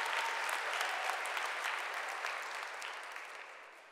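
A church congregation applauding and cheering the Lord, steady dense clapping from a crowd that stays fairly even before gradually tapering off, with no clear talk over it.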